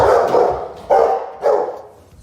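A Rottweiler barks three times in quick succession, loud and close, each deep bark sharp at the onset and trailing off, the last followed by quiet.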